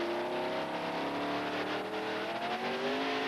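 Dodge Ram pulling truck named Someday, 2000 ATPA truck pull at Bristol, Tennessee, revving loud and steady with rising engine harmonics that climb through the run.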